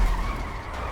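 Car tires skid hard as the vehicle spins out in GTA 5, with a loud, continuous screeching slide and engine noise filling the whole moment.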